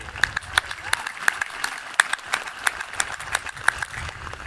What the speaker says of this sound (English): yes, clap for them, absolutely